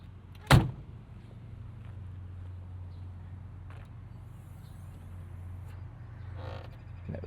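A sharp single pop from the door-sill hood release of a 1980 Ferrari 308 GTBi, followed by a faint low idle hum and a few soft clicks and handling noises near the end.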